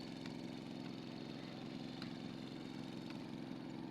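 Grass cutter engine running steadily at a mowing job, a constant mid-pitched drone with a buzzing hum and no pauses, heard alone at moderate distance.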